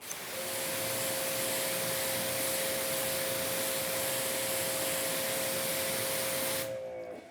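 A pressure-washer water spray hisses steadily while rinsing the side of a car during a ceramic coating test, a loud continuous broadband rush that cuts off abruptly at the end.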